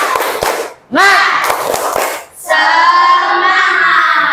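During a classroom lesson, a group does a rhythmic spirit clap: a few sharp, close hand claps land between loud, energetic voices that call out and chant.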